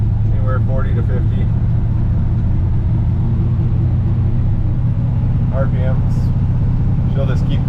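A 1966 GMC pickup engine runs at a fast idle, a loud, steady low rumble that holds throughout while someone talks over it at times.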